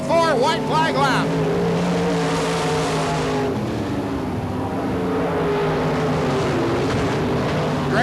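UMP late model race cars roar around a dirt track in Barberville, Florida, with a dense, continuous engine drone from several cars at once. An announcer talks over the noise.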